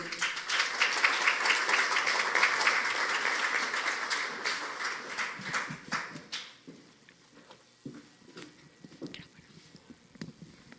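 An audience at a conference forum claps steadily at first, then the applause thins out into scattered, fading claps.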